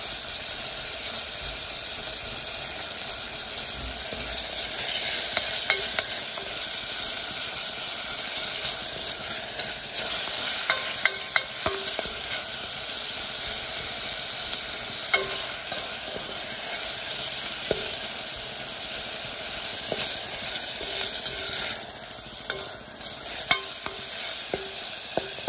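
Bacon frying in a pan while being stirred, a steady bright sizzle running throughout with scattered scraping and clicking from the utensil against the pan, close and continuous with no talking.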